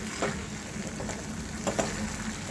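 Rava sheera with dry fruits being stir-fried in a pan, giving a soft continuous sizzle with a few light scrapes of the spoon, close and unaccompanied by talk.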